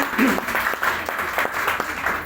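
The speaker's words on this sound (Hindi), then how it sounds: "एक बार जोरदार ताली होनी चाहिए सर के लिए" A seated audience at an event claps together in a sustained, fairly loud round of applause with individual claps blending into a continuous patter.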